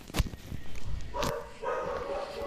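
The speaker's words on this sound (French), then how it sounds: "ils peuvent arrêter de faire gueuler la chienne là" A female dog in the Christmas mode of the Granny multiplayer game gives short, sharp barks, brief and moderately loud against a noisy game background.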